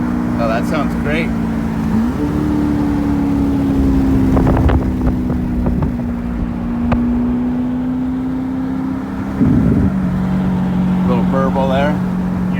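Deep, steady exhaust drone from a C8 Corvette with a Lemans center exhaust while driving, heard from the cabin, with a gear change and pitch shift partway through, some wind noise, and people talking over it.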